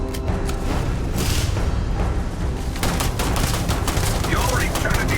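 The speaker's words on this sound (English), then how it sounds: "I'm getting shot up." Sci-fi gunfire in Starfield, rapid bursts of automatic shots crackling close and continuously, with dense overlapping impacts throughout and a few sharper cracks toward the end.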